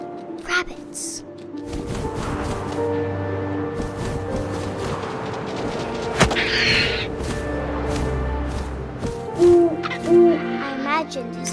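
An owl hoots softly in the video game What Remains of Edith Finch, a few short hoots late in the stretch over a steady windy outdoor ambience with scattered rustles, and a voice narrating throughout.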